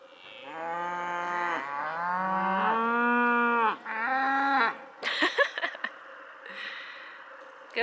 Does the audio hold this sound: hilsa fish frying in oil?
no